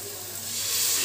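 Tomato and cashew paste fries in a pan after the onions, a steady close sizzle and hiss that slowly swells louder over a brief moment, with no voices.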